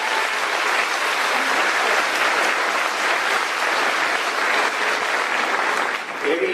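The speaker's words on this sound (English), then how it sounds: "Let's give a round of applause to Nathan and Cassidy." Graduation audience at a high school ceremony applauding two honored students, dense sustained clapping from a large crowd filling the hall for several seconds without pause.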